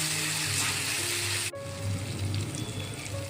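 Spice masala paste roasting in oil in a pan, a dense, loud sizzle and crackle that continues throughout, with a brief break partway and a steady hiss afterward.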